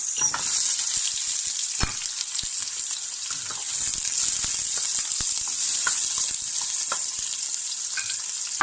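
Onions and coarsely ground ginger garlic paste with green chili frying in hot oil for a chili potato starter, a steady loud sizzle throughout with occasional stirring clicks and no talking.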